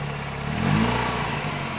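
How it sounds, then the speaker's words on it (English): A 1989 Nissan Silvia S13 engine idles with a rough, uneven knocking rumble from an internal fault, swelling briefly midway, steady and close with no voices. "Sounds like something inside the engine is, well, in a place it shouldn't be."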